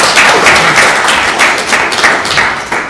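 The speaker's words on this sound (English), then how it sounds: "Let's have a round of applause" A small audience at an Internet of Things meetup claps loudly and close, a dense even patter of hands that fades slightly over three seconds.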